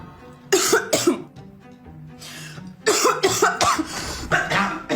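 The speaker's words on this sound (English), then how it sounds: "You're keeping the whole house up with your disgusting cough." A woman coughs in several harsh, hacking bursts, with short pauses between the fits and a steady low hum underneath.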